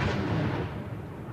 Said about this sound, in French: à l'image de ces coups de canon à Wellington, la capitale de la Nouvelle-Zélande